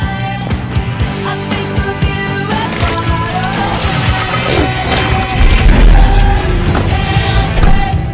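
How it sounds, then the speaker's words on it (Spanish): Cars smashing and crashing during a race in a Spanish-dubbed science fiction film, with dense repeated impacts, metallic crunches and rumbling engines filling a loud, busy soundtrack. "¿Autos que chocan?"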